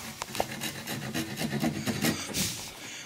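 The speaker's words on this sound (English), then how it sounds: "I'm moving the saw over" A hand saw rasps across a piece of wood in short repeated strokes as a kerf is started along a marked line, close and fairly quiet.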